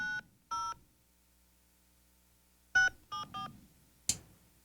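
Telephone keypad touch tones dial a number on a call to Frontier: two clear beeps, a pause, then three quick tones and a short click, loud and alone with no talk.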